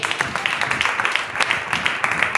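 A church congregation claps during a sermon, a dense steady patter of many hands sustained throughout, fairly loud and close, with no clear voice over it.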